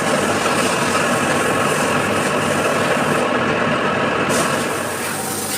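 A metal lathe machines the second end of a metal part, facing and centering it, giving off a steady, loud, continuous mechanical whir with broad grinding noise that runs unbroken throughout.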